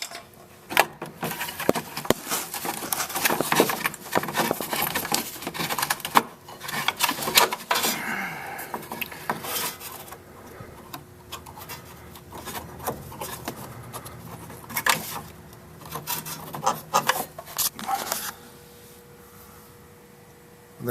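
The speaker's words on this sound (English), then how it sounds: "We're just going to unsnap it with a screwdriver. Unsnap it towards the back." A screwdriver pries at and unsnaps a fuel filter clip on a 2004 Ford Explorer, giving scattered metallic clicks, scrapes and taps close by that come in irregular bursts before fading to quiet.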